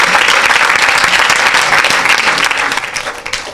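A congregation at a church service breaks into loud, sustained applause, many hands clapping close and dense before it begins to fade at the end.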